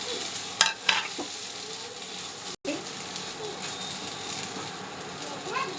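Pointed gourd and ridge gourd peels with green chili fry in a pan with a steady, close sizzle, joined by a few scraping stirs near the start.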